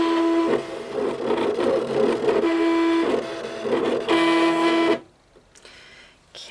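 An electronic die-cutting machine set to maximum pressure, speed and blade cuts card, giving a steady whirring motor drone with rhythmic pulses and shuttling, then abruptly stopping near the end and leaving quiet.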